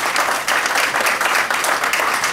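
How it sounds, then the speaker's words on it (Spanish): Audience at a book presentation event clapping for a guest, a loud, dense, continuous burst of applause close by, lasting the whole short stretch. "Aplausos, Talavera. ¡Bravo!"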